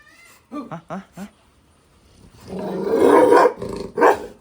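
A large dog barks at a house, a few short sharp barks followed by a longer rough, growling burst and one more bark, loud and close, with a person speaking nearby.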